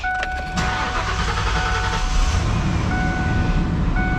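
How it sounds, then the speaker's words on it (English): A 1994-95 Ford Mustang GT turns over with a brief starter crank, then catches into a loud, steady close-up idle that rumbles on without a break. "at this point I can go ahead and start the car"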